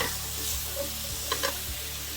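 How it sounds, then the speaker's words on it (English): Vegetables, onions among them, stirred in a pan over medium heat for vegan bibimbap: a steady soft sizzle with a few scraping stirs of the utensil, close and moderately quiet, no voices. "we're just gonna stir it nice and about at medium heat"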